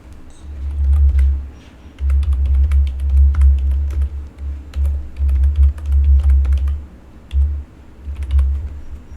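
Typing on a computer keyboard, close and fairly loud, a fast irregular patter of key clicks in bursts with short pauses over a low hum, no voices.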